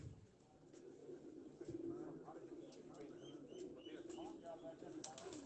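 Pigeons coo softly on a rooftop, several repeated throaty calls with a few chirps over quiet background, while someone talks nearby.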